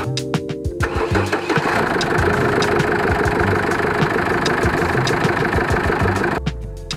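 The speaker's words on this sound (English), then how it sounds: "you might admire your work with idling engine on" A 2008 Jeep Wrangler JK 2.8L CRD diesel starts and settles into a loud, steady, close idle with a knocking rattle, running for several seconds before cutting off.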